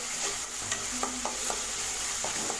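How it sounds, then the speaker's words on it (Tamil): Tomatoes and mint leaves sautéing in a pan for mutton dalcha, a steady close sizzle of frying under repeated scraping stir strokes, with no voices. "தக்காளி வதங்கும் போதே 4-5 புதினா இலையில் சேர்த்துக்கங்க"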